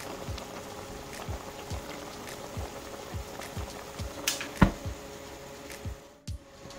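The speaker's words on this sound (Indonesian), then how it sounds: "sudah mendidih, gini aja, sudah kita matikan kompornya" Kolak, a banana dessert, simmers in a pot on a stove, giving a faint, steady run of soft bubbling pops at a regular pace, with a brief clatter near the end.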